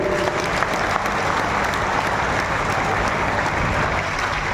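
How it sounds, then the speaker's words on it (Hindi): An audience at an ashram's Mahapurnahuti ceremony claps vigorously in welcome, a dense, even wash of applause continuing without pause throughout. "इनके स्वागत में जोरदार तालियों के साथ स्वागत करें"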